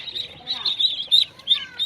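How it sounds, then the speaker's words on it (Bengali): Muscovy-type Chinese ducklings, 15 to 20 days old, chirping close and loud in rapid, overlapping high-pitched peeps that come in quick bursts throughout. "এগুলো সব 15 থেকে 20 দিন বয়সের চীনা হাঁসের বাচ্চা"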